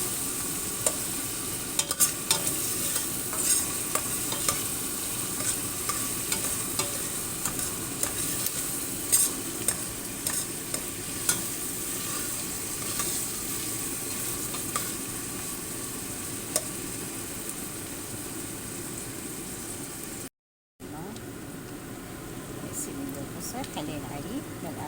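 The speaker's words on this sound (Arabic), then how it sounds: "هسه خلينا البصل إلى أن يصير تقريبا ذهبي" Onions frying in a pot until golden for a white bean stew, giving a steady, close sizzle throughout with frequent scraping stirs and small clicks, and a brief break near the end.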